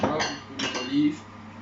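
Dry pasta, salt and olive oil go into a pot of water in a home kitchen, giving a few close, brief clinks and clattering knocks against the pot with no talk.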